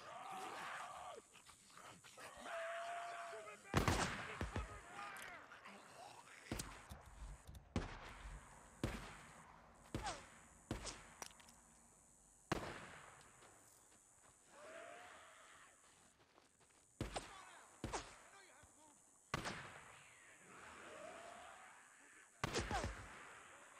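Gunfire rings out in a zombie shooter game as a series of sharp, separate bangs, fired singly and in short bursts at irregular intervals against a quiet, humming background.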